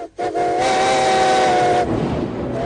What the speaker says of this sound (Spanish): Cada vez que suena el silbato de un tren de vapor, llena el aire por completo.